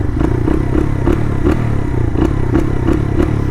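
Engine of a street-legal dirt bike after a top-end rebuild, running with a steady loud drone and a rhythmic series of sharp revving blips and clattery thumps, close by with no talking.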